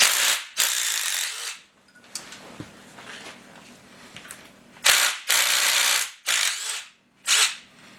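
A ratchet wrench removes the cam retainer bolts on a Willys F head engine, rapid clicking pawl bursts in several short runs with brief gaps between, close by, with no talk over it.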